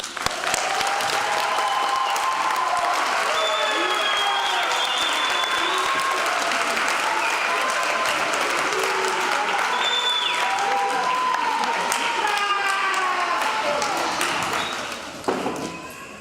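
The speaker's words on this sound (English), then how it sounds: "Now we can applaud." Audience at a high school graduation ceremony breaks into sustained, dense applause that holds steady for about fifteen seconds before tapering off at the end, with scattered higher clinks and pings mixed into the clapping.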